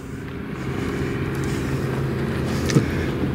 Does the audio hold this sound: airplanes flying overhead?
yes